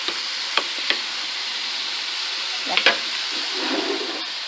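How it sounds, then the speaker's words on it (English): Bacon sizzles in a pan with a constant bright hiss, broken by a few sharp clacks from the pan and utensil, close and fairly loud throughout. "We want the bacon to be crispy a little bit"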